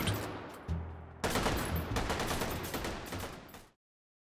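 A Bren gun fires in the VR shooter H3VR, with brief shots followed by a sustained burst of rapid automatic fire that is loud and close and then cuts off abruptly into silence.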